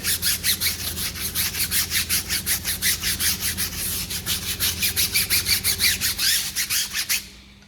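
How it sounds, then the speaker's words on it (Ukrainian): Stiff brush scrubbing car tires during a detailing wash, a fast, steady run of rhythmic rasping strokes, loud and close, continuing evenly for about seven seconds before stopping abruptly. "Беремо щітку і починаємо відпрацьовувати."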